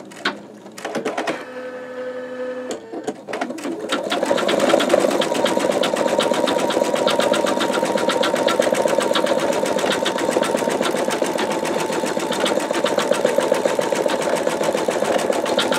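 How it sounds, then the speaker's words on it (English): An embroidery sewing machine stitches highlight details on the wing tips of a bumblebee quilt block, opening with a few short stuttering bursts before settling into a loud, continuous rapid needle rattle. "These particular stitches are adding some of the definition that you would see."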